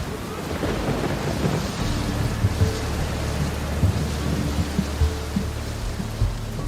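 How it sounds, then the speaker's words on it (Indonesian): Heavy rain pours steadily through a forest while thunder rumbles low and close in repeated rolls, with no voices. "Suatu hari, hujan deras mengguyur hutan."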